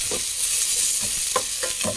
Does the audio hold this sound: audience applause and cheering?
no